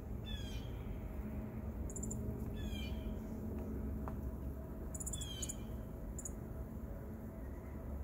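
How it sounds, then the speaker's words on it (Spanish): Small birds waiting to be fed give repeated high, quick chirps in short bursts over a constant low background rumble. "Ahí están los pajaritos esperando a que yo me meta para ellos comer."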